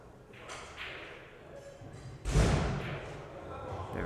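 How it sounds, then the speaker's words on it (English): A punching bag machine at the front of a venue takes a heavy hit, giving one booming thud partway through, with softer knocks and murmuring talk around it. "That thunder you hear is from the punching bag machine up front."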